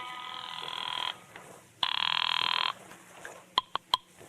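An old telephone rings twice in long, loud buzzing bursts in a vintage detective radio drama, followed by a few sharp clicks as the receiver is handled; no talk.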